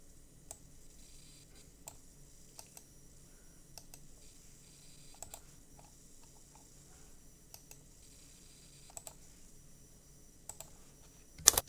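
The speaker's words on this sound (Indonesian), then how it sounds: "ini kita ketik" Sparse, quiet keystrokes on a computer keyboard, a few isolated clicks spread over a faint background hum, with a louder clatter right at the end.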